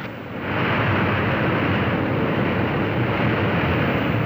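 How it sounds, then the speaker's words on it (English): Airliner propeller engines roar in reverse pitch after touchdown, a loud, dense, continuous rumble that swells within the first half second and holds steady throughout, with no voices. "Captain will reverse the pitch of the propellers and push the air forward and just stop the plane."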